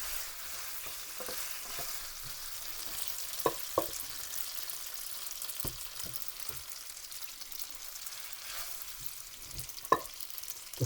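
Pasta stirred into hot frying fat in a pan gives a soft continuous sizzle, broken by scattered scraping taps of the utensil against the pan, close but quiet with no voices.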